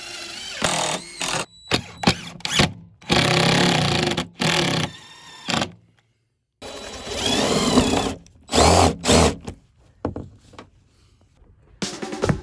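A power drill drives screws into a plywood subfloor inside a van, in several short bursts of whirring separated by pauses, loud and close with no talking.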